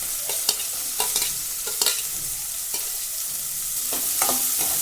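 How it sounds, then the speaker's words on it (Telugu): Sliced onions fry in hot oil with green chilies and curry leaves for a dry fish curry, a steady close sizzle broken by sharp spoon scrapes and clacks against the pan at irregular intervals. "ఆనియన్స్ కొద్దిగా బ్రౌన్ అవ్వగానే"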